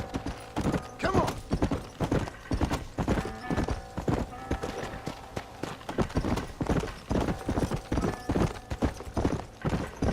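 Galloping horse hooves in the video game Red Dead Redemption, a rapid steady clip-clop rhythm that runs near and loud the whole way through, with a brief whinny and someone speaking briefly over it.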